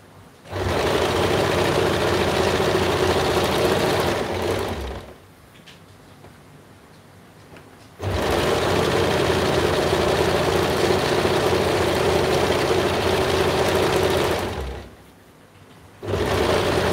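Sewing machine running a zigzag stitch on fabric in two long bursts of steady whirring motor drone, each several seconds long, separated by a brief pause, close and fairly loud with no talking.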